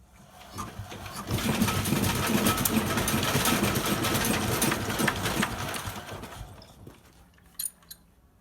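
A heavy Chinese walk-behind tractor engine is started outdoors in winter at minus six degrees. It cranks and runs loudly and roughly up close for a few seconds, then fades and dies, leaving a couple of faint clicks.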